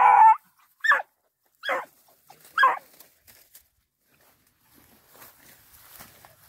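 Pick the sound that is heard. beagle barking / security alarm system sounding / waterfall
beagle barking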